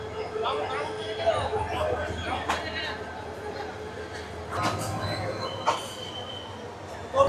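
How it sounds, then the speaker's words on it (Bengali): The Mahanagar Provati passenger train departs a crowded station, rumbling along with rolling wheel noise and brief squeals, while a crowd of people talk loudly around it. "ট্রেনের লাইন হয়ে গেছে এখন ছেড়ে দিল ফাইনালি মহানগর প্রভাতী"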